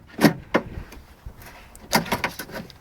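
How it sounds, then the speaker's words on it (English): A door handle is worked free from a Nissan Primera P11 car door, with a series of sharp plastic clicks and knocks, a couple early and a cluster later, close and fairly quiet. "try and take the door handle out."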